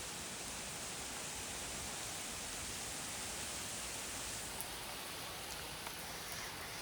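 Rain falls steadily on a home garden full of flowering plants and lilies, a dense, even hiss that holds at the same level throughout with no voices.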